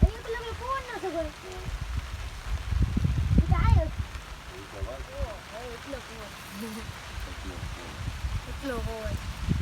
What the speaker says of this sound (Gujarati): અતિ ભારે વરસાદ ચાલુ છે અત્યારે